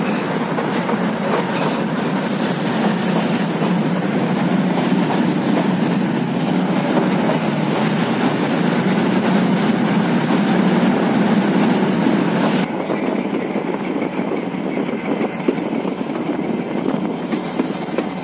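Kangra Valley toy train running on rails, a steady close rumble and rattle of wagons with faint clickety-clack throughout, continuous and unbroken.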